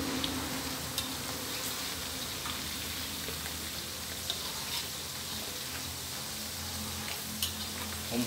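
Sun-dried beef frying in hot oil with pandan leaves, a steady dense crackling sizzle with scattered sharper pops, close and continuous with no talk.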